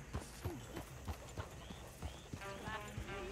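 Hooves of a horse-drawn coach clip-clop in a regular, close rhythm in a Red Dead Redemption 2 game scene, with a horse's brief whinny and faint voices near the end.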